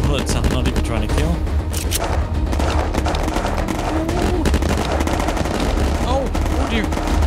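Dense automatic gunfire from the survival game Unturned, steady rapid shots running the whole time, loud and close, with voices talking over it.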